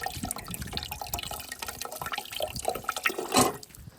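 Water running and splashing at an outdoor drinking fountain while someone washes an item under the cool stream, with a louder gush near the end.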